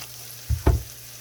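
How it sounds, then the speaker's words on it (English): Butter dropped into a hot pan for a creamy seafood pasta sauce gives two short, close sizzling bursts, each fading quickly over a quiet background. "So I'm just gonna add maybe a tablespoon of butter to this."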